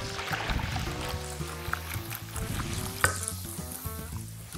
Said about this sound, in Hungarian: A tészta egy kicsit elkezd pirulni ilyenkor, átjárja ez a finom zsiradék